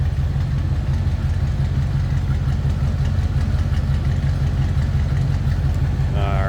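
A 1978 Chevrolet El Camino V8 idles steadily and loudly up close, a continuous low rumble with an even pulse throughout and no talk over it.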